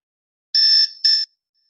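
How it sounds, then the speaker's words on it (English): Two short bursts of a shrill electronic beeping tone, the first longer than the second, loud and close in an otherwise silent space. "Every morning my alarm clock wakes me up for school."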